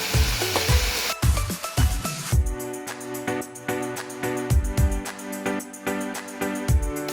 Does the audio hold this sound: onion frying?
yes